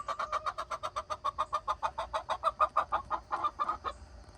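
Chickens squawk in a quick, rhythmic run of about twenty clucks, moderately faint and close by, with no voices.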